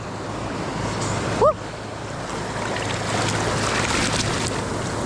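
Big sea waves wash and roar steadily at a coastal fishing spot, with wind buffeting the microphone and a brief whistling chirp partway through.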